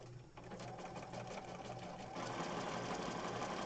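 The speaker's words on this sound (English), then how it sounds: "So I'm over here at my sewing machine. I've got it set for a zigzag stitch." A sewing machine runs a zigzag stitch across a mixed media page, a steady rapid mechanical chatter up close that rises slightly in speed partway through, with no talking over it.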